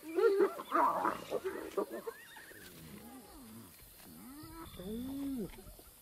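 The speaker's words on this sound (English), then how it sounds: "Hyenas are ripping an impala kill apart." Hyenas squabble over an impala carcass, giving loud whooping cries, whines and rising giggling calls that come in bursts, then settle into quieter wavering yelps.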